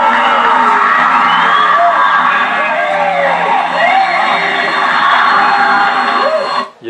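Screams and shouting from a group during a ritual in a film scene, loud and continuous with rising and falling wails, cutting off abruptly at the end.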